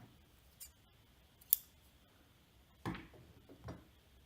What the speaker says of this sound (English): We're not going to need a lot of thread for each of these, so I'm just going to cut a short amount.